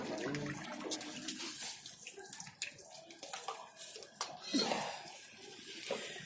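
Water splashing and trickling irregularly onto stone at a shrine spring in a Baghdad mosque, close and moderately loud in uneven pours, with faint voices and background bustle around it.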